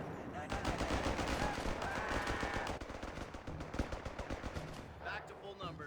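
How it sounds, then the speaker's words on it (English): Heavy machine gun in Company of Heroes 3 rattles off sustained rapid bursts amid dense battlefield gunfire, loud and continuous throughout with no pauses. "Heavy machine gun has been requisitioned."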